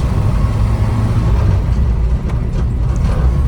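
A classic Ford Escort with a 4-speed gearbox runs on choke while cold during a test drive, its engine a steady low drone with road rumble that stays loud and continuous throughout.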